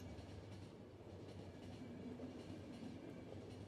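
A train moves along rails in the video game The Final Station, giving a faint, continuous rumble with soft rhythmic clatter throughout, with no voices.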